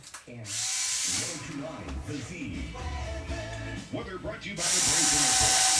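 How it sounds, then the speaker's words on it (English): A power drill whines in two short bursts at the start and end as it drills holes in plywood, with clattering handling noises and movement in between. "Now I can drill my other two holes."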